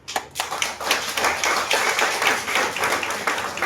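Group of listeners clapping their hands as an acupressure exercise during a health lecture, a steady run of rapid, overlapping claps lasting a few seconds, close and moderately loud.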